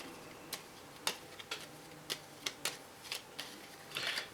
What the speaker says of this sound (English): Okay, you shuffle your deck up,